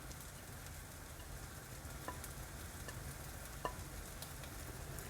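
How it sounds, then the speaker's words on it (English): Ground masala with spice powders such as coriander-cumin powder and Kashmiri red chili sizzles steadily in a pan, a dense continuous frying hiss with a few soft stirring clicks, close and without talk. "as you can see that the ground masala is almost fried, I'm going to add all these masalas one by one"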